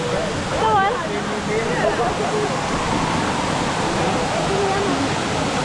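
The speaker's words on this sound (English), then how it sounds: "Here's the waterfall." Waterfall in a Philippine canyon, a broad steady rush of falling water heard up close, with a voice talking briefly over the roar early on.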